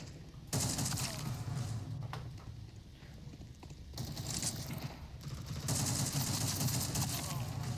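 Bursts of rapid gunfire from a first-person shooter video game, three sustained volleys with brief lulls between them, loud and close with a steady game soundscape underneath.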